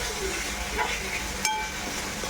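Paneer momo filling sautéing in a pan, a steady close sizzle with a few light clinks of a utensil against the pan and one sharper metallic tap midway; no talking.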